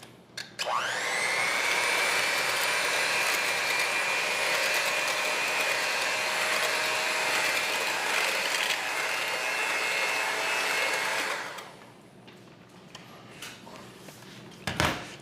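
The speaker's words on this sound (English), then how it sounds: "Whisk this up a little bit." Electric mixer whisking New York style cheesecake batter with sugar, salt and nutmeg: a steady loud motor whine starts abruptly and holds for about eleven seconds, then stops, followed by a few faint clatters.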